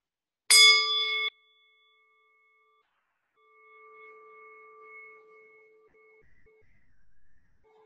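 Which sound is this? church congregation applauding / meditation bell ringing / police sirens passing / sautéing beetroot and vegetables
meditation bell ringing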